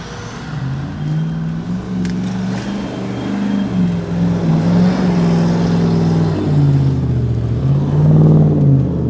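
A car engine drones loudly and continuously as the car goes over a jump, its pitch rising and falling as the throttle is pressed, with no voices.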